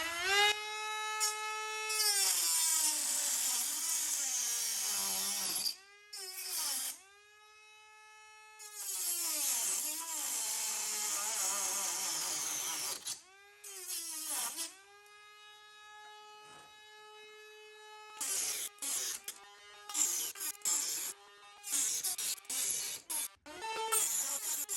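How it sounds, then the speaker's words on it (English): Dremel rotary tool cutting off the protruding ends of overlong screws, a loud high-pitched whine that rises and falls in repeated bursts with brief pauses and stutters between cuts. "trim the ends off the screws that were too long with the Dremel"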